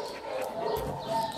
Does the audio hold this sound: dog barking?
yes